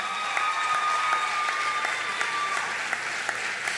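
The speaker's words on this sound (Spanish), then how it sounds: "otra vez un fuerte aplauso" Applause from a concert audience at a farewell concert: a steady, moderately near wash of many hands clapping that keeps going throughout, with a faint sustained tone beneath.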